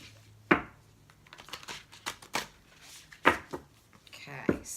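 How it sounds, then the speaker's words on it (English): A deck of tarot cards is shuffled by hand in several quick riffling, slapping bursts, crisp and close, with a soft voice murmuring between them. "Let's give these a little shuffle."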